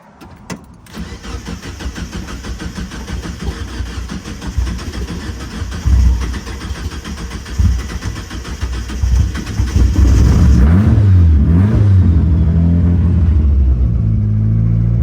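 A car fitted with adjustable engine mounts cranks and fires up, settling into a close, loud idle with uneven surges, then revs repeatedly in rising and falling bursts toward the end.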